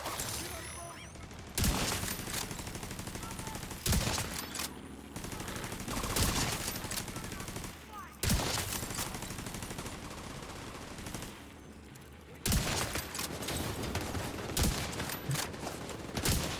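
Bursts of rapid video game gunfire, several loud volleys broken by short pauses, over a steady background din.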